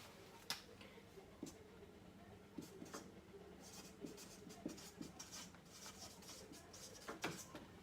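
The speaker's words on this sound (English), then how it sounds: "I will write this down." Pen scratching out handwritten notes, a series of short scratchy strokes and taps with brief pauses, close and fairly quiet against a soft background hum.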